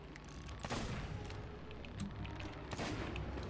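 Sea of Thieves gunfire aimed at kraken tentacles: two or three distinct shots ring out over a low, rumbling background of combat noise, fairly faint overall and with no talking.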